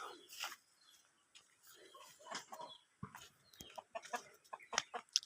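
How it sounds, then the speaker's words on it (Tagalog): Chickens cluck and squawk in a rural hillside farm setting, a series of short, irregular calls that come close and loud at moments, with scattered rustling and bird chirps between them. "Aba, manok."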